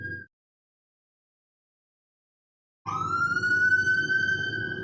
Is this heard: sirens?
yes